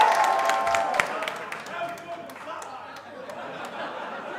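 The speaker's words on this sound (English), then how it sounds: "Big ovation for the clap." Wrestling crowd at a Scotty 2 Hotty vs. Joe Hendry match in the northeast gives a round of applause: steady scattered clapping and some laughter from a large audience, with commentators talking over it.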